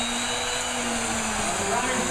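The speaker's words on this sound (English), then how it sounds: "It's called a tool post grinder." A small tool post grinder motor mounted on a lathe whines steadily at close range, a constant hum with a fixed tonal drone that holds unchanged for the whole stretch.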